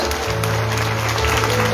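A church congregation claps together at a spiritual celebration, a dense, steady wash of applause with a low musical hum running underneath.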